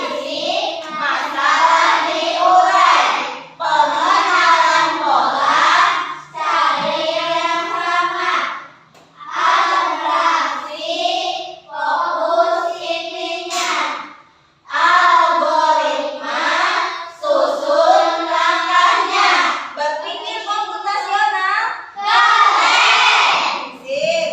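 Indonesian schoolchildren in a classroom chant a rhythmic clapping rhyme about the principles of computational thinking during a coding and artificial intelligence lesson. Loud, continuous young voices shout the chant in steady bursts, with hand claps mixed in.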